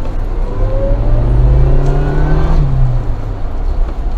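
Supercharged Suzuki Jimny Sierra with automatic transmission accelerates hard, its engine note climbing steadily and loudly through the revs before easing off, heard from inside the vehicle.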